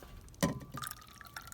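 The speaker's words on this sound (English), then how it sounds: "You can also put a little bit of warm water inside of the cup" Warm water poured into a cup to loosen frozen ice, giving one brief splashing burst followed by light trickling and dripping, close and quiet, with no talking.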